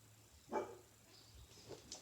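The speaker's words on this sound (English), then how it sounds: "Sorry guys, that's my dog." A dog gives one sharp, close bark in a quiet indoor setting, followed by a few softer yips and whimpers.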